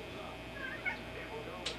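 A cat lets out a few faint, short meows against a low, steady indoor background.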